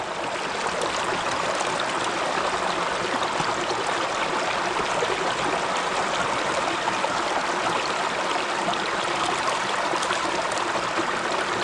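Water flows in a small river in France at a gold-prospecting spot, a steady broadband rush and babble close to the microphone, unbroken and without voices.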